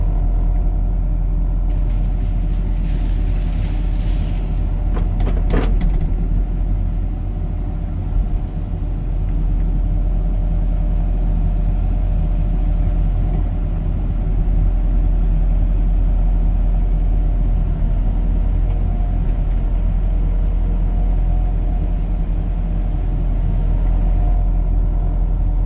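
A John Deere 50G mini excavator idles and runs steadily while working on a pond, a constant low engine rumble with a high whine from the machinery and a brief rattle near the start.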